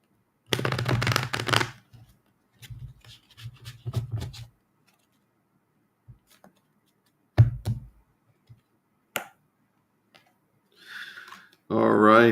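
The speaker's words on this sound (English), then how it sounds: "Let me give you a quick shuffle." A psychic reader shuffles a deck of cards in two quick flurries of papery riffling, followed by sparse taps and small handling clicks in a quiet room, with a brief voice at the end.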